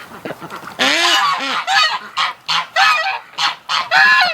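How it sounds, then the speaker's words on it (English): A goose at a nesting spot among wintering ducks and geese gives a run of loud, close honks in quick succession, about eight calls with short gaps between them and no talk. "the Miss Goose is over there again"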